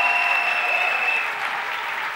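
A church congregation applauds at the start of a worship meeting, a steady, dense wash of clapping that holds strong before easing slightly toward the end.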